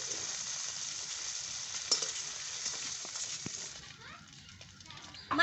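Spices tempered in leftover fish-frying oil, with a bay leaf and dried red chillies going in for a fish-head dal, give a steady close sizzle with small crackles and a brief stir near the end.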